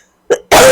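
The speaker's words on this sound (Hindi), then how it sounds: "थोड़ी खांसी हो गई है।" A single short cough, followed by a burst of loud broadband noise that cuts in abruptly.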